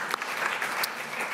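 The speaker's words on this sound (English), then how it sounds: "I think we can all give a round of applause to the conference." Steady applause from a conference audience at a health inequality session, a dense even patter of many hands clapping at moderate distance with no talk over it.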